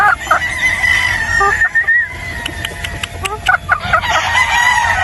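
Boston Roundhead chickens cluck and a rooster crows amid busy background chatter and movement, the birds close by and fairly loud.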